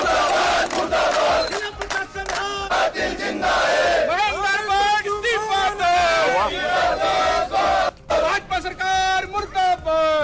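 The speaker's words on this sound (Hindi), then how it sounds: "जहां जमकर नारेबाजियां होती नजर आ रही है" Student protesters at a street demonstration chant slogans loudly in unison, a continuous rhythmic crowd of raised voices calling and responding with no pauses.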